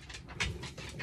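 Close, quiet rapid panting from a dog indoors, a quick run of soft huffing breaths over about a second.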